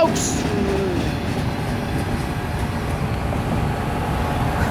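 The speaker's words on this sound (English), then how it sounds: "it's the short mixed way train I have ever seen in my entire life!" A short CSX mixed freight train rolls past westbound, a steady close rumble of wheels and cars holding for the whole stretch, with faint rail squeal early on and no talking.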